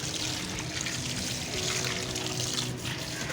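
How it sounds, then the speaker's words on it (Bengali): Running water pours steadily over chicken pieces being rinsed in a kitchen, a continuous close trickling splash with no voices. "তো চিকেন পিসগুলোকে ভালো করে জল দিয়ে ধুয়ে নেওয়া হচ্ছে।"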